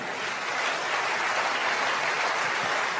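Church congregation applauding during a sermon, a broad, sustained roar of many hands clapping at once, steady and fairly loud without a break, no voice standing out.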